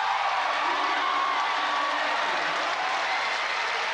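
Volleyball crowd at a Shakey's V-League match between DLSU-D and ADMU, applauding and cheering in a steady, dense wash of clapping and voices that stays loud and unbroken throughout.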